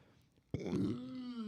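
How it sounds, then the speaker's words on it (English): A man lets out a single loud, deep burp close to the mic after a moment of quiet, the croaking tone drawn out for about a second. "Man, those burps are fucked up."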